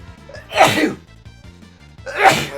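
A person sneezes twice, each a sharp close burst about a second and a half apart, with quiet game music underneath during a Final Fantasy VI play session.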